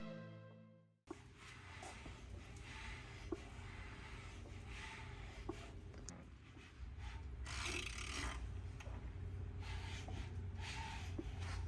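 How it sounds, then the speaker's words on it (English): Mechanical knocking and ratcheting from the number 3 piston in a Mitsubishi Lancer Evo 8 engine with abnormal noise, a steady close rhythmic clatter running nearly twelve seconds with no talking. "listen closely as the number 3 piston makes a sound that just isn't right"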